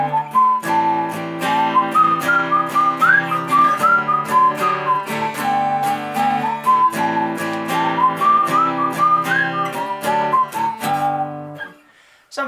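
Guitar in DADGAD tuning strumming a Celtic jig with one chord per bar, a steady lilting rhythm of bright chords under a high ringing melody line, played alone and stopping abruptly at the end.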